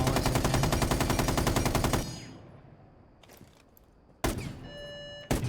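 Automatic gunfire during recoil practice in Rainbow Six Siege rattles in a rapid, loud, even burst for about two seconds, then fades into quiet before two more sharp, isolated shots ring out.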